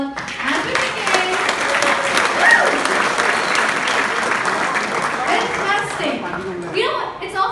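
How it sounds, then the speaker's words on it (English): A large audience at a corporate Axis Bank event in Karjat gives a sustained, loud round of applause that fills the room continuously, with crowd voices mixed in throughout. "y'all have to give a huge round of applause"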